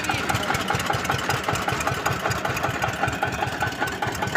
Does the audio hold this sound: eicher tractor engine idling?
yes